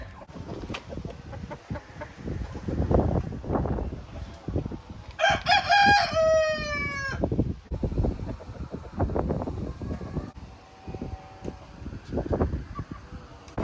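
A rooster crows once, loud and clear, among chickens clucking around a farmyard in strong wind, with gusts and scattered clucks continuing throughout.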